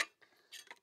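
Light metallic clinks and rattles of a steel camping cutlery set being handled, with a sharp opening clatter, then a few short jingles of spoon, fork and knife against each other.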